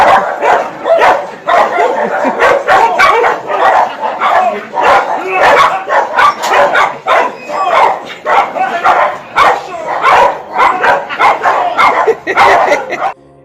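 Several dogs bark repeatedly at a drunk man on a street at night, a dense run of loud, overlapping barks and yips with few pauses, some voices mixed in.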